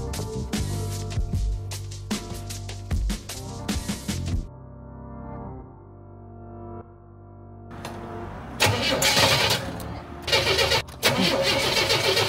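A Buick Grand National, sitting unused for ten years and freshly fueled with new gas, cranks and fires. The loud engine catches, drops to a lower idle, then surges again with revving bursts.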